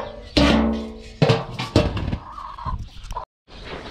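Chickens in a backyard coop and run cluck close by in several short, loud bursts separated by brief pauses.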